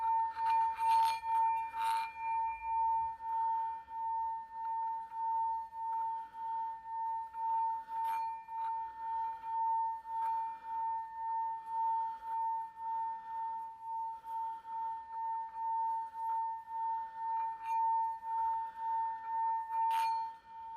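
A meditation singing bowl rings a steady, bright, sustained tone, pulsing gently in a slow even rhythm as it is rubbed around the rim, fairly quiet and heard alone for about twenty seconds.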